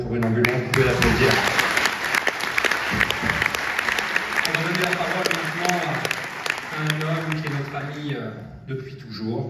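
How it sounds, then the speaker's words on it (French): A theatre audience at a solidarity evening for Magen David Adom applauds Aurélie Pirillo, with dense, sustained clapping and voices mixed in before it fades and speech resumes. "Vous pouvez l'applaudir."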